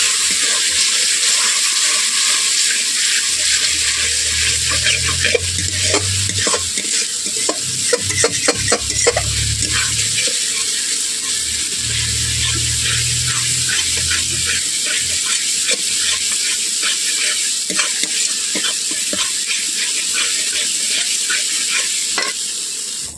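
A spoon steadily scrapes and stirs spice paste with a little added water in a kadai for rui fish kalia, with a soft sizzle of frying underneath and a few sharper clinks along the way.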